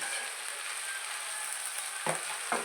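Brinjal and broad beans fry in a pan with a steady hiss of hot oil, close and even, and two soft stirring knocks near the end.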